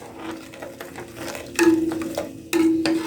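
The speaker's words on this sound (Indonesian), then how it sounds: "Aduk-aduk, masak sampai mendidih." A spoon scraping and clinking around the bottom of a pot of sugar syrup in slow, uneven strokes, with a faint bubbling hiss in the background.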